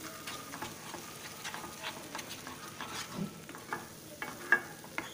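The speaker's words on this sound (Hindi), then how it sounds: "अभी हम इन सब मसालों को अच्छी तरह से मिक्स कर देंगे।" Spices frying in a pan for a potato and pea curry, with a soft continuous sizzle and irregular stirring scrapes close by, fairly quiet and without talk.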